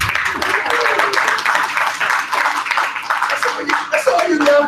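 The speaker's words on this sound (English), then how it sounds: "All right, clap for yourself." Audience at a live NYC event clapping for themselves, a steady spread of hand claps mixed with a voice talking over it throughout.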